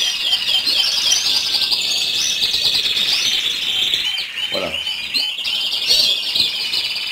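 Caged goldfinches and canaries chirp and twitter continuously, a dense, bright chorus of overlapping calls that stays loud and close throughout, with no talking.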